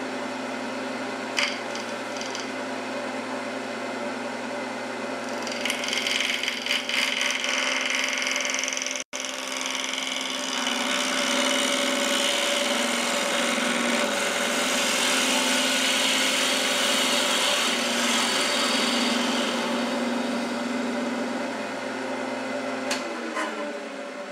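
A wood lathe spins a non-round piece through an interrupted cut, a steady motor hum with a rough rasping tool noise that swells and fades as the gouge meets the wood, then the hum continues alone.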